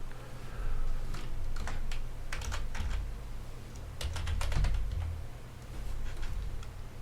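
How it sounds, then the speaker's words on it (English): Rapid clicking of a computer keyboard in bursts, close and distinct over a low background hum. "I'm so bad at typing today"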